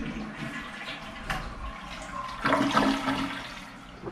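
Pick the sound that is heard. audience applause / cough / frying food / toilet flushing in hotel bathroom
toilet flushing in hotel bathroom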